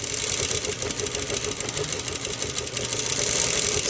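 A sewing machine stitches small quilted circles into fabric, its needle running in a steady rapid mechanical chatter that holds close and continuous without pause.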